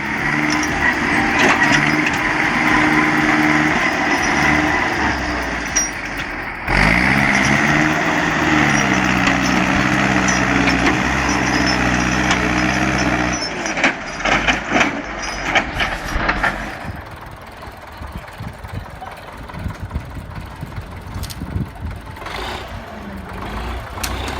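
A tractor engine drones steadily while hauling a heavy wood trailer of about 5,000 pounds, held with chains, along a frozen trail. The loud, continuous rumble shifts in pitch partway through, then turns rougher and more broken toward the end.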